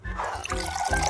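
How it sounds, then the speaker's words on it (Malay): Coffee is poured into a cup in a steady, close trickling stream, with small splashing and gurgling throughout. "Sekarang saya akan tuang kopi ke dalam cawan."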